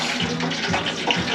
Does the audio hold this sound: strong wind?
no